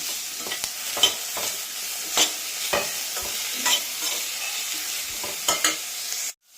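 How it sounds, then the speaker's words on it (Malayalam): Grated coconut stirred into a sizzling sautéed mixture in a pan, with steady frying hiss and repeated scraping stir strokes close up, no talk. "വഴന്ന് വന്നിട്ടുണ്ടായിരുന്നു അതിലേക്ക് തേങ്ങ ചേർത്ത് കൊടുക്കുകയാണ്"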